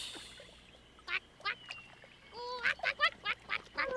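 A cartoon duck gives a series of short, clear quacks in quick bursts against a quiet outdoor fishing scene by the water, with a soft whistle-like tone in between.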